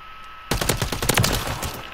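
HOLGER 556 rifle fire in a first-person shooter game, a sudden loud burst of rapid automatic shots cutting in after a quiet moment and rattling on for well over a second.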